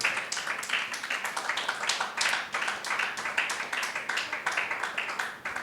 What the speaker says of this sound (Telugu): గట్టిగా చప్పట్లు కొట్టి దేవుని నామమున మహిమపరుద్దాం